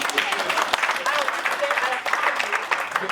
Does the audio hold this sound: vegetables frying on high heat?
no